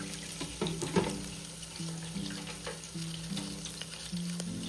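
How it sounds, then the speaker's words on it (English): Chicken wings frying in oil heated to about 380 to 400 degrees Fahrenheit for a final crisping, giving a steady close sizzle with a low bubbling hum and occasional clinks and stirring scrapes, with no voices. "heat up your oil to about 380 to 400 degrees Fahrenheit and fry them for 1 or 2 more minutes"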